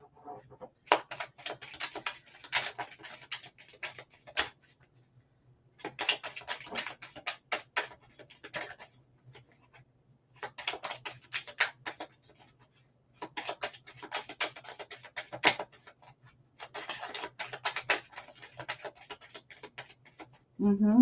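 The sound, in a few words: shuffling a deck of cards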